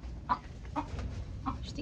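A broody backyard hen clucks close by, three or four short, evenly spaced clucks over a low steady background hum.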